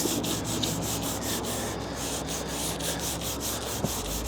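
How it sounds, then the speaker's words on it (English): Soft sanding block with 320-grit paper rubbed over primer, a steady close scratchy hiss in even back-and-forth strokes, quiet and unbroken. "we're going to use this soft block with 320."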